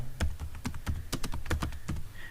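Keys clatter on a computer keyboard as a page title is entered while building a blog's Contact Us page, an irregular run of close, crisp clicks and taps with short gaps and no talking.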